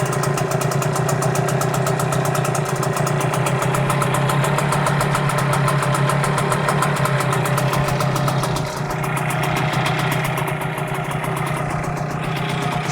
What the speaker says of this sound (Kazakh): Мотор біраз жұмыс жасап тұр.